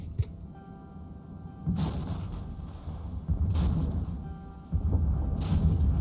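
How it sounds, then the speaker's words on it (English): Counter-battery artillery fire in the military strategy game Regiments lands in three heavy booming bursts spaced roughly two seconds apart, each leaving a loud rumbling tail. "Because here comes that counter battery fire, most likely."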